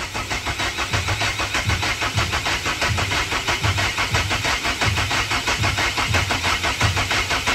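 A Chevrolet Captiva diesel engine that has sat unused for about a year and a half cranks over, with a loud, close, rhythmic churning of steady starter pulses throughout.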